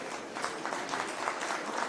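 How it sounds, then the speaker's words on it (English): A crowd applauds steadily at the 2022 Kuza Broadcasting Awards ceremony, a dense patter of many hands clapping at even loudness throughout, with no one speaking over it. "please round of applause for Madam P.S. as she comes on stage."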